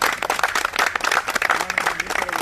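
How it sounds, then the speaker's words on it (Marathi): Audience applause at a political party joining event, a dense, steady wash of many hands clapping close and loud throughout, with no clear talk over it. "टाळ्या वाजवा जोरदार."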